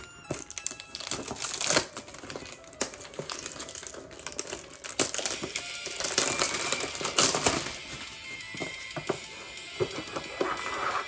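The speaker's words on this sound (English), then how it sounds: "let's go ahead and crack this open. As always, sorry for the plastic." Plastic wrapping crinkles and crackles up close as it is torn off a box of This Is Not A Blue Bottle 1.5 perfume by Histoires de Parfums, in irregular bursts with sharp snaps and rustles.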